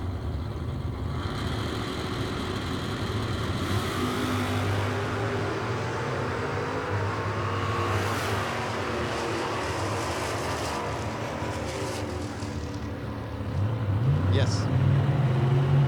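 Drag racing cars, a Chevrolet Malibu and a Camaro, rumble at a strip with a dense engine roar that swells loudly near the end, while an announcer talks over it.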